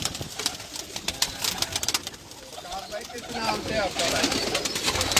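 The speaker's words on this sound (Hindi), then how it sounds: "मैं आपको कबूतर दिखाता हूँ" Pigeons coo and flutter on a rooftop in Lahore, a steady low cooing under a voice speaking close by, with the bird sounds growing fuller toward the end.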